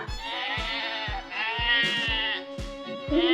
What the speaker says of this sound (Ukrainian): Вівця каже бе.